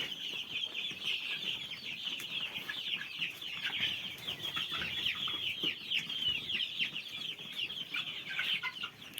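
A flock of Kaveri chickens, about six weeks old, clucks and cheeps continuously, a busy overlapping chorus at moderate distance with no pauses.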